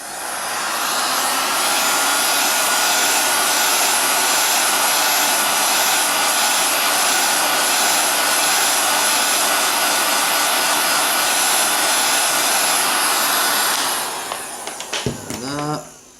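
Heat gun blowing hot air onto a MacBook Pro's glass panel during a screen replacement, a loud, steady roaring whoosh that holds for about fourteen seconds before cutting off into clicks and handling noise.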